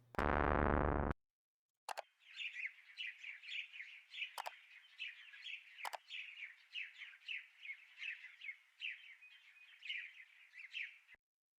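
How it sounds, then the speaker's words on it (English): Rapid repeated bird chirps in the Dingir OS video game, a steady twittering run broken by a few sharp clicks after a brief loud burst at the start, with no voices. "Nice birds."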